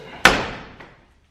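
The door of a Chevrolet squarebody K30 truck slams hard once, a loud close metallic thud with a rattling decay and a faint secondary knock, then silence.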